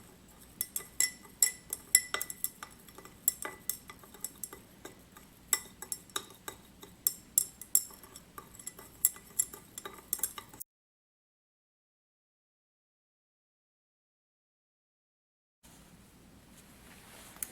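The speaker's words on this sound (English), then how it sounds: "We are just going to heat and stir until the crystals," Glass stirring rod clinks rapidly and irregularly against laboratory glassware while blue copper sulfate solution is heated to dissolve its crystals, close and sharp, then a sudden silence before faint background noise returns.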